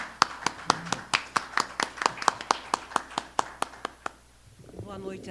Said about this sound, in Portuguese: Palmas antecipadas, por favor,